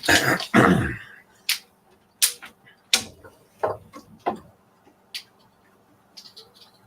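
Several short coughs and throat-clearing bursts spaced across a quiet room, a heavier cluster at the start followed by sparser single coughs, close and moderately loud.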